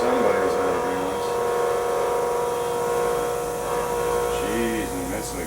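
Running at full, screaming speed and vibrating from imbalance, a Delta 23-197 bench grinder gives off a loud, continuous high motor whine with a rough, wavering hum beneath it, steady and close for the whole stretch.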